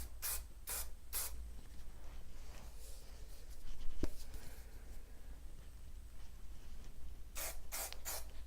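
Hair product is sprayed onto a bob hairstyle in short hissing bursts, three near the start and three near the end, with a quiet stretch between them.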